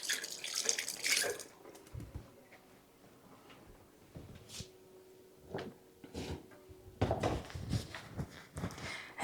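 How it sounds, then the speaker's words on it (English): Hands washed under a running kitchen tap, soft splashing water with knocks and clatter around the sink, fairly quiet and close, with no speech. "Let me wash off my hands."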